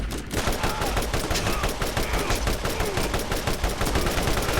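A gun in the video game Borderlands fires in rapid, evenly spaced bursts, loud and close, a steady stream of sharp cracks running for over four seconds without talk.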